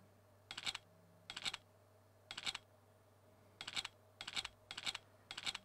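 Computer keys pressed in short, clicky bursts of two or three strokes, about seven clusters spaced roughly half a second to a second apart, close and quiet over a faint steady hum.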